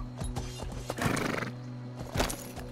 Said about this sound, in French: Il est fatigué le cheval ou quoi là?